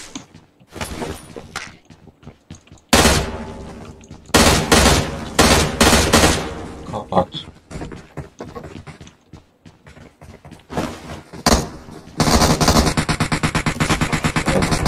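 M16 rifle fire in PUBG Mobile comes in loud, close bursts, with several rapid volleys and a long sustained stretch near the end, spaced between quieter game ambience.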